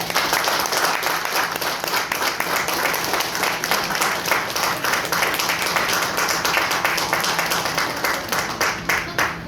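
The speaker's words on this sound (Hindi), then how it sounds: "आपकी जोरदार तालियों के साथ।" An audience applauds loudly as a speaker is introduced at an event. Dense, steady clapping from many hands continues without a break throughout.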